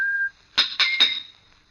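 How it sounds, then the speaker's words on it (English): A cheery whistle in an old time radio drama: one held clear note, then three short, bright, rising chirps in quick succession against a silent background. "From the yard itself came a cheery whistle, the noise of hammer blows and the cold sound of steel meeting stone."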